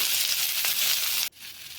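Chopped onions frying in oil in a wok with a dried chilli and panch phoron, a steady bright sizzle close up that cuts off sharply near the end, leaving a fainter hiss.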